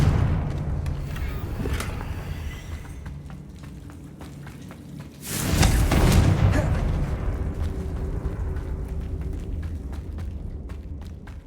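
A Confringo blasting spell in Hogwarts Legacy lets off a single loud, sudden explosion partway through, which settles into a rumbling tail over quieter ambient game sound.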